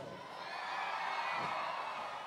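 A crowd at a Brazilian street festival shouts loudly and steadily, cheering on a novelty 'crazy taxi' vehicle, a dense continuous roar of voices with whoops that holds for a couple of seconds.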